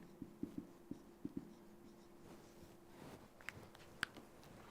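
Chalk or marker taps and scratches on a classroom board as the topic is written, a quick run of sharp clicks followed by fainter strokes and a couple of louder taps, close and quiet with no talk.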